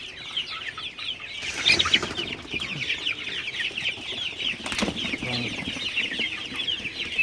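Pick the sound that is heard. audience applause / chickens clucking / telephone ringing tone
chickens clucking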